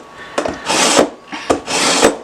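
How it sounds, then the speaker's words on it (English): A knife is drawn through a handheld sharpener in two slow, rasping strokes, each starting with a click and rising into a gritty scrape, close and loud. "Supposed to sharpen it to like a razor blade"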